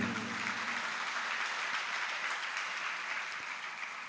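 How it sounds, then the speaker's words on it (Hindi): Steady applause from an audience gathered at a spiritual discourse by the Jain monk Samaysagar Ji, a dense, even wash of many hands clapping that holds for several seconds and tapers slightly at the end. "उनका स्मरण करते ही तालियां बजती हैं, बजना चाहिए"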